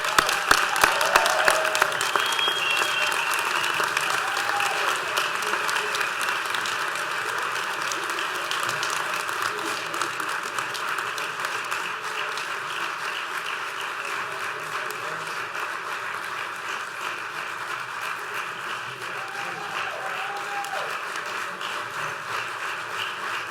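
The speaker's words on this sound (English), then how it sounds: "Let's give them all a round of applause." An audience applauds at a 2014 conference closing and graduation ceremony. The sustained, dense clapping begins loud and slowly tapers over more than twenty seconds without stopping.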